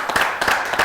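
An audience claps for a musician walking onto a stage at a televised show in Burkina Faso, with a short burst of close, rhythmic applause.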